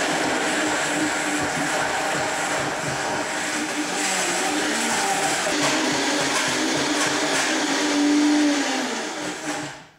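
Blender mixing raw Christmas pudding with a tamper, a loud, steady, close whir that runs continuously for about ten seconds before winding down and cutting off at the end.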